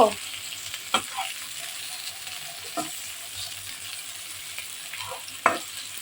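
Food fries in a pan with a soft, continuous sizzle, while occasional spatula scrapes and taps land against the pan at irregular intervals. The sound is fairly quiet and close, with no voices.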